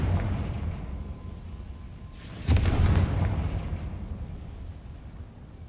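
Confringo fire spell explosion in the game Hogwarts Legacy, a single sharp boom over steady background game ambience that fades slowly afterward.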